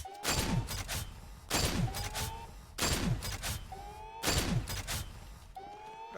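Blaster fire in the Star Wars First Assault video game: four loud, repeated bursts of shooting spaced about every second and a half, each trailing into descending laser-like tones, with no talking.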